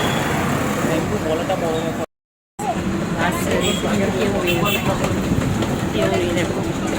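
Riding a tram in Kolkata, with a constant loud rumble of the moving car and street traffic throughout, a brief dropout partway, and people talking over the noise.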